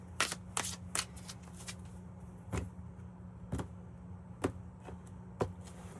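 Sharp bursts of cards riffling and snapping, a few quick ones early then spaced slaps, over a steady low hum; no talking.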